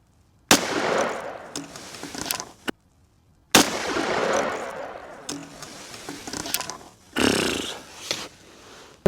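Sharp, loud shots from a Smith & Wesson FPC 10mm carbine firing 155 grain Underwood XTP rounds, several heavy reports spaced a few seconds apart with echoing tails outdoors, close to the microphone.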